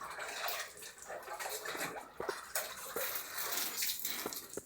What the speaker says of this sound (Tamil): இதை வந்து நம்ம திரும்பவும் ஒரு தண்ணியில் அரைச்சணும்.